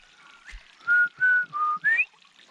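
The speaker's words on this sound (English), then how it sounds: "No, I can't whistle." A person whistles a short run of four clear, sustained notes, close and fairly loud, with slight pitch slides between them and a little breathy noise around the edges.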